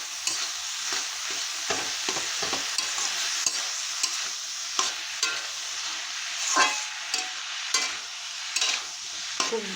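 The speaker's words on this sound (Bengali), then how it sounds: "এখন খুব ভালো করে নেড়ে নেব।" A spatula stirs a sizzling banana flower curry with hilsa fish head in a pan, giving repeated scraping strokes over a continuous frying hiss, close and clear.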